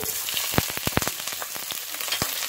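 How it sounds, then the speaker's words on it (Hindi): Chopped onions frying in oil crackle and pop in a pan, a fairly quiet stream of sharp, irregular spits close up, with no voices. "अब हम इसमें ऐड करेंगे अपनी कटी हुई प्याज"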